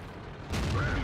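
A World of Tanks A-44 fires its 107 mm gun with one sudden, heavy boom that keeps rumbling afterwards, loud and close in the battle, with no voices over it.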